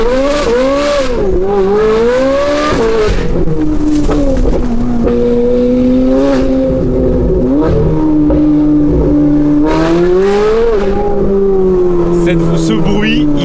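A loud Ferrari 458 engine revs hard and pulls through the gears while driving, a strong rising and falling howl with sharp shifts, close and dominant over the whole stretch.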